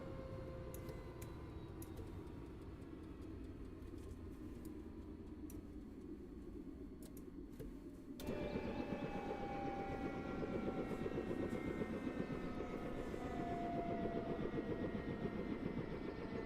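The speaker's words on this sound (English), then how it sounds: "the whole sound of this helicopter just sounds absolutely amazing" Robinson R66 turbine helicopter engine simulated in Microsoft Flight Simulator 2024, a steady low whine and drone that jumps sharply louder and fuller halfway through as the rotor system spools up, continuing alone without talk.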